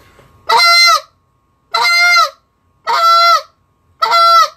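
A goose call is blown with a drawn-out spit moan, giving four loud, close, reedy honks, each about half a second long and spaced evenly with silence between.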